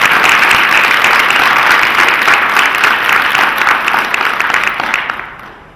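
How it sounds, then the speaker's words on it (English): An audience at a community gathering applauds, a loud, dense and steady wash of clapping that holds for several seconds and then fades away near the end. "Let's give them a round of applause"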